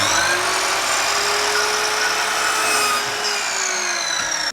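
A power saw cuts through wood while a chair leg is made, giving a continuous rasping whine for several seconds at steady loudness, close up, and ending abruptly.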